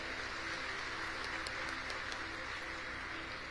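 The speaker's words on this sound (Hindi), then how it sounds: "पर जोरदार तालियों से स्वागत करें।" An audience at a religious katha program applauds to welcome a visiting chief minister. The clapping sounds faint and distant, a soft, even patter over a low electrical hum, with no speech.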